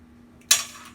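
An egg cracked against a mixing bowl while making banana bread: one sharp, close crack followed by a brief fading ring, alone in a quiet room.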